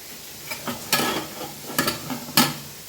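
Sliced onions frying in a pan in a home kitchen, a soft steady sizzle broken by a few sharp scraping stirs of a utensil against the pan, close and without voices.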